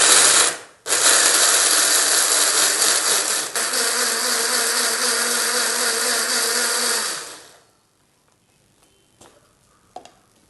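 A mixer grinder whirs loudly for several seconds as it grinds tomato, green chili and ginger. It stops abruptly, and faint clicks follow in near silence.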